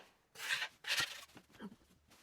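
Drywall mud being sanded by hand on a garage wall: two long, rough rasping strokes, then softer scraping, close and fairly quiet, with no talking.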